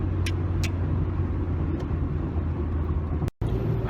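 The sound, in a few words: road traffic passing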